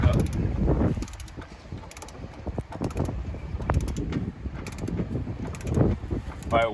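A large torque wrench tightens an RV water heater anode rod, sounding as a run of close ratcheting clicks and mechanical creaks in uneven bursts.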